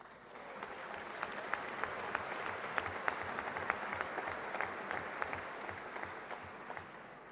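A union congress crowd claps in sustained, even applause for striking Moroccan postal workers, a dense patter of hands heard at moderate distance with no talking.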